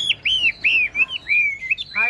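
A Chinese hwamei songbird in a cage sings a run of loud, clear, close whistled notes, repeated slurred phrases with brief gaps between them.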